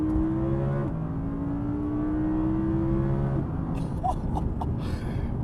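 A 2020 Audi R8 V10 Performance with its 5.2-litre V10 in sport and manual mode revs up through gears, a strong rising engine note that drops at shifts, with sharp crackles near the end.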